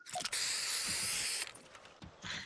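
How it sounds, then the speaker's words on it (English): Spray-paint burst in a murder-mystery video game: a long steady hiss of just over a second, loud and close, with faint game noises and a shorter second hiss near the end. "He sprayed a Spider-Man."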